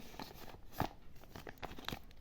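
A small paper surprise packet from an old homemade card collection crinkles and rustles softly as it is handled close by, with a few brief crisp crackles and tearing-like bursts.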